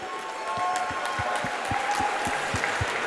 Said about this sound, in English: Ladies and gentlemen, a round of applause, please, for both of the fighters in the center of the cage.